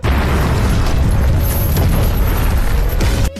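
A dramatic movie explosion roars as a dense, sustained blast filling the whole clip, loud and rumbling throughout before cutting off abruptly at the end.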